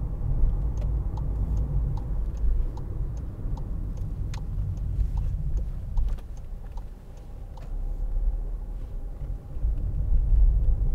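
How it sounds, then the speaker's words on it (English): A 2018 Skoda Fabia 1.0 TSI 95 PS three-cylinder engine ticking over in fifth gear at just over 1,000 rpm, around 28 mph: a steady low drone and road rumble with faint regular ticks, no talk. "this car is ticking over"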